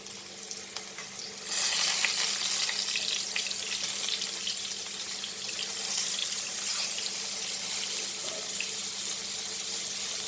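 Mushrooms frying in a pan give a steady, close sizzle that rises sharply after a quiet start and then holds at the same level to the end, with no talking.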